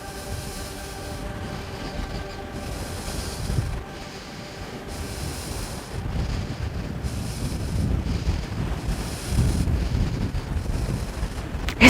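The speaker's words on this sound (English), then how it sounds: "It's windy out." Outdoor wind gusting steadily into the microphone, a low rumbling roar that swells and eases in waves over twelve seconds, loud and close with no talking.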